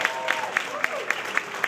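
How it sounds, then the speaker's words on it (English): A community meeting audience in Cody Rouge gives a round of applause for the Skillman Foundation, moderate steady clapping with a few sharper claps standing out, a voice faintly under it. "You all can just give Skillman a round of applause as well for their investment"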